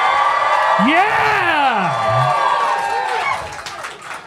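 A large audience roars with cheers, whoops and shouting, loud and sustained throughout, with rising whooping voices riding over the dense crowd noise and one person yelling close by.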